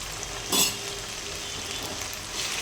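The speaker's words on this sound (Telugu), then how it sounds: "ఇప్పుడైతే ఇది మాడు పట్టకుండా బాగా ఫ్రై చేసుకోవాలి" Ginger and shallots frying in oil in a pan for chicken pickle, a steady close sizzle and crackle with one brief louder burst of spattering near the start.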